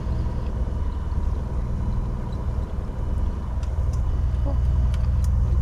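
A small training plane taxis after landing with a steady engine drone and rumble, close and even throughout, with faint clicks near the end.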